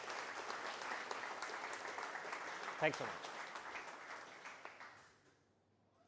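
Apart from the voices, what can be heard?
audience applause at a conference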